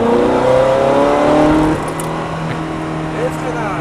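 A Ferrari F430 accelerating on the Lédenon race circuit, its engine note rising loudly and closely, then a brief drop and a renewed climb, with faint talk in the background.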